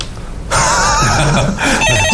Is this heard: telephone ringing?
yes